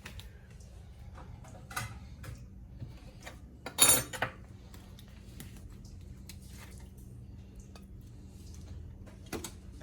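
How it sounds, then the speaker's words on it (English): Dinner plates being served at home after chicken comes out of the oven, with scattered light clinks of cutlery and dishes and one louder clatter of plates near the middle over a quiet room. "Hubby's making plates."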